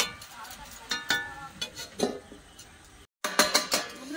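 Metal clanks and scrapes as a lid is set over a cooking pot of prawn curry, with sharp clinks, stirring scrapes and a brief break before more clatter.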